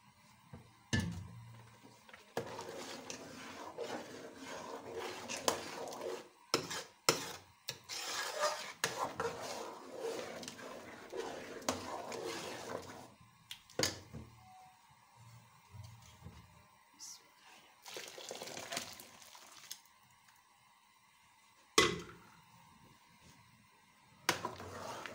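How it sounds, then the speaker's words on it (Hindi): A spoon scrapes and rasps steadily around a pot of gajrela cooking with boiled milk, close and continuous with brief pauses and a few sharper clinks against the metal. "जैसे ये पकता जाता है उसी तरह इसका चम्मच हिलाते रहना है मुसलसल"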